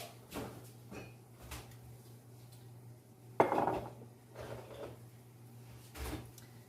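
Pans and cookware handled in a home kitchen, with several scattered clanks and knocks, one sharper metallic clatter midway, over a low steady hum.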